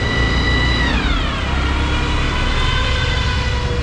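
Fire engine siren wailing loudly with a long descending sweep during a blaze, over steady traffic and engine rumble from a mountain road trip in Uttarakhand, continuous throughout.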